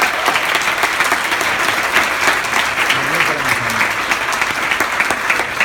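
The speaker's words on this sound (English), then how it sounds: "Give yourself a round of applause." Sustained applause from an audience at a community health forum hosted by a congressman, a dense steady wash of clapping lasting several seconds, with faint voices mixed in beneath it.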